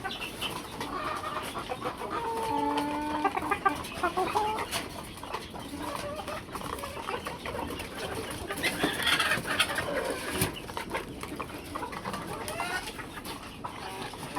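Free-ranging desi (local) chickens cluck and murmur continuously nearby, a busy flock with scattered calls over outdoor background noise.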